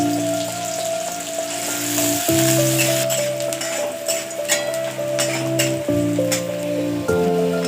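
Onion frying in hot oil for a Maharashtrian cluster-bean (gavar) dish, a light crackling sizzle with sparse pops beneath a steady sustained musical tone, no talk.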